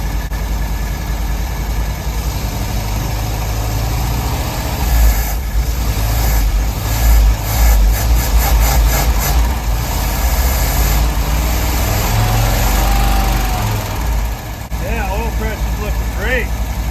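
An abandoned custom 1971 Ford van's engine idles steadily up close with a deep, rumbling drone, sometimes rising briefly, while people talk over it.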